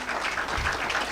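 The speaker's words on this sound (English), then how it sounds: "So huge applause, everyone." Brief burst of audience applause at an International Women's Day event in Dallas, Texas, a soft, steady patter of many hands with no talking.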